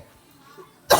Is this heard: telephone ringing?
no